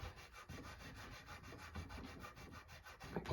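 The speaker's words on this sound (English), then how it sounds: "Polishing, polishing." Rhythmic rubbing strokes of a cloth polishing a guitar body, quiet and close, repeating steadily back and forth with no talking.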